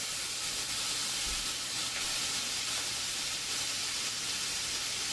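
Spinach with okra and ground fresh herb seasoning cooks in a pot, giving off a steady, even hiss and sizzle of steam that continues unbroken, with no talking.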